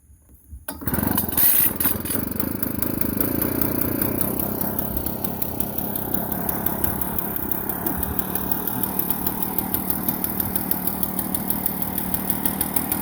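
An Echo PB 500T backpack blower's engine starts on a single pull, then runs loud and near at a steady idle with a rapid, even pulse.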